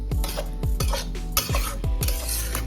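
A spatula scrapes rhythmically through a pan as meat fries with ground masala of coconut, ginger, garlic, cinnamon, clove and cardamom. The strokes come at about two per second over a soft sizzle, close and clear with no voices.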